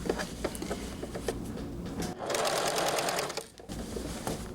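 A sewing machine stitches a sleeve under the presser foot while a Paris bolero sleeve is set in, running in fast rhythmic bursts with a short pause and a brief dip between runs, close and clear.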